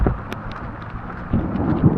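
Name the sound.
thunderstorm with thunder and rain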